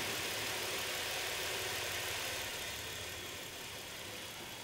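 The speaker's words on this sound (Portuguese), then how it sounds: "No manobrar já senti que tem uma falha de cilindros." A Chevrolet Captiva V6 idles with a cylinder misfire, giving a steady mid-pitched engine hum with faint uneven knocking pulses, fairly quiet and alone without talk.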